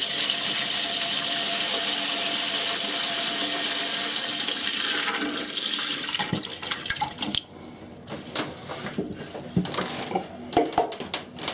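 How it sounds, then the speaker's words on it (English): Water pours from a Fluidmaster toilet fill valve into a cup held over it: a steady loud broadband rush for about six seconds, then breaking into irregular splashing bursts as the flow changes. "So holding the cup over the valve, turning the water back on,"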